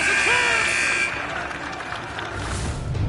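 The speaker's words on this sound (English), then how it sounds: "There's the buzzer" End-of-period buzzer at an ice hockey game, a loud sustained horn tone sounding for about a second over crowd noise, then fading into the murmur and cheering of the arena.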